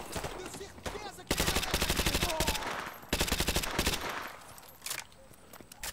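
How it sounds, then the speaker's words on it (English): Automatic weapon fire in the Modern Warfare 2 Remastered campaign rattles in two long, loud bursts with a shorter one later, over background game noise and faint voices. "Pretty sure I just shot Soap in the back of the head"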